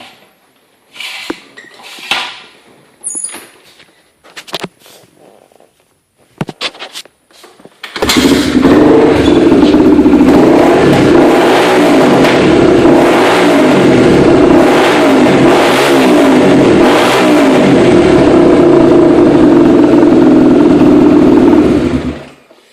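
A Honda XR250R dirt bike is kicked over with some clinks and brief handling noise, then fires up and runs loudly and steadily with repeated throttle revs rising and falling until it shuts off.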